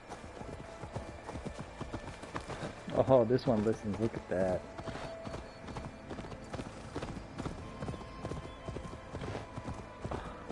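Horse hooves clip-clop steadily on a hard surface, with a brief neigh-like sound in the middle, while people talk nearby over the hoofbeats.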